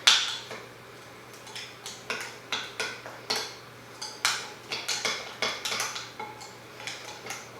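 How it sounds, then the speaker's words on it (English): A spoon stirring a coffee scrub mixed with shea butter, sweet almond oil and vanilla spice in a bowl, giving repeated close scraping clinks in a steady rhythm, alone with no talk. "Give that another stir."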